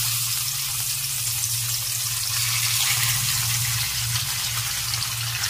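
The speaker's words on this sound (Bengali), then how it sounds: "এখন মাছগুলো ভেজে নিচ্ছি" Pieces of silver carp fry in hot oil in a wok for a Bengali-style fish curry, giving a steady, close, broad hiss that holds evenly with no voices.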